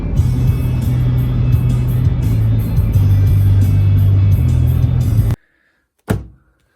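A car cruises on a highway with a loud, steady engine drone and road noise from inside, then cuts off abruptly. A single thunk like a door follows in near silence.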